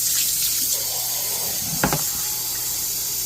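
Tap water runs steadily at close range as cleaning water is changed, a loud, continuous hiss and splash with a brief clunk midway and no voices.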